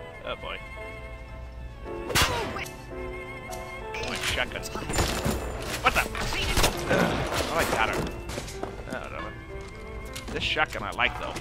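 Shotgun blasts and combat crashes fire in a BioShock fight, several sharp loud shots spread over the span against a busy bed of ambient game sound and music.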